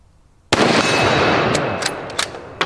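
A single loud, close rifle shot from a bolt-action rifle chambered in 6.5x55 Swedish, a sharp blast followed by a long ringing decay, with a few brief clicks and knocks near the end.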